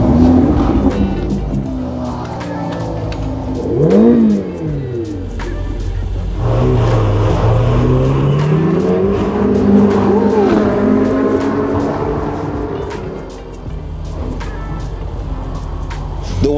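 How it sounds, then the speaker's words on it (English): A Ferrari supercar drives through London streets, its engine droning loudly and steadily throughout, with revs rising and falling and no talk over it. "I'm riding in a Ferrari today in London."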